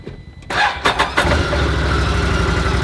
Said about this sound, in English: With the engine running again